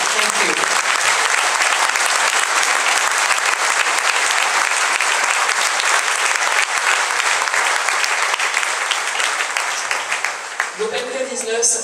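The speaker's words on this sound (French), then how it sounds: "They all deserve your applause." Sustained audience applause fills a martial arts competition venue at the Open K19, dense and steady throughout, thinning slightly near the end as a voice begins.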